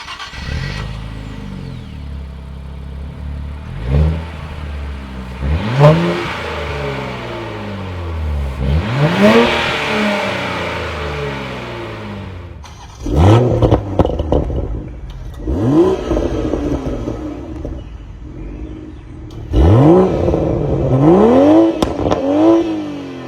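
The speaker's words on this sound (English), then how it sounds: "we do have a valve exhaust in the Supra, but the Z does not get a valve exhaust" A Toyota Supra with valve exhaust and a Nissan Z rev hard in repeated bursts, rising and falling loudly, with deep exhaust rumble and crackle, close by, one after another.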